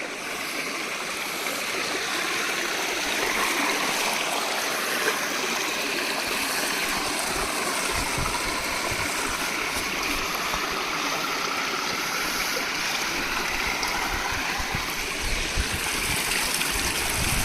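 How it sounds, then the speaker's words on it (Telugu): Fresh water flowing in a stream below a dam, a steady, close rushing and gurgling that carries on evenly throughout with no voices. "చూడండి వాటర్, ఫ్రెష్ వాటర్."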